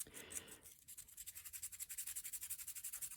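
Close, steady back-and-forth scratching of 220 grit sandpaper on a basswood carving, a brief rougher rub followed by about twenty regular, evenly paced strokes, with no talk.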